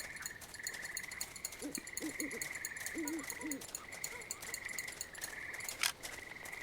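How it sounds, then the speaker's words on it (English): A bird sings in the video game On the Rain-Slick Precipice of Darkness: short, soft hooting, warbling phrases repeat over a steady chirping, insect-like ambient loop, fairly quiet and without talk. "This bird appears to be singing a haiku."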